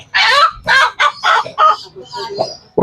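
A chicken hen sitting in her nest makes a string of loud, close, honking clucks and squawks in uneven bursts, trailing off into softer sounds.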